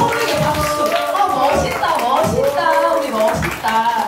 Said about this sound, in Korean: 은희한테 박수, 여러분.